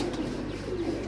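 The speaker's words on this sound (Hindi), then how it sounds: "ए कबूतर है जनाब दोस्तों, बहुत नायाब किस्म ने कबूतर ने" A rare-breed pigeon coos close by, a steady low murmuring call that runs through the whole short moment with no other sound.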